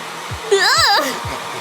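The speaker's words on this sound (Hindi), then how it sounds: "सबसे पहले मेरा ब्लो ड्रायर, बिल्कुल।" A handheld hair blow dryer switches on with a rising whine and keeps running as a steady, close airflow roar, with faint thumps beneath.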